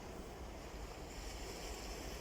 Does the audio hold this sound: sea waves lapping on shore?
yes